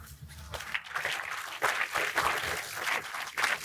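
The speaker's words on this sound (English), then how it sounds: "Put a big hand and applause." A room of people applauding, steady clapping that swells and continues for a few seconds.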